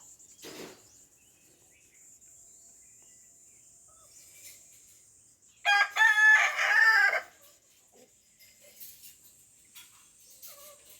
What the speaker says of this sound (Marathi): या कोंबड्याचा तुम्हाला सतत व्हिडिओमध्ये आवाज येत असेल